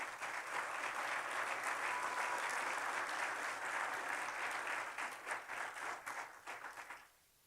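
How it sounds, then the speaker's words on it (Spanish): Church congregation applauding in sustained, dense clapping that holds steady for several seconds, then thins into scattered claps and stops abruptly near the end. "Denle un aplauso a Cristo"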